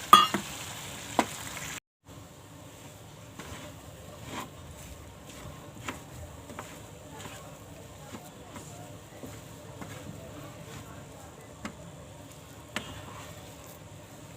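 Semolina and water are stirred together into a thick dough in a pan, giving a steady soft scraping and sizzling texture that runs continuously after an abrupt start.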